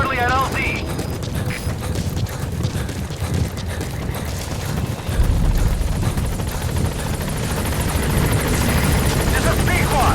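A helicopter arrives in Metal Gear Solid V: The Phantom Pain as a continuous rotor thrum and mechanical whir that grows heavier partway through, with radio-style voice chatter over it.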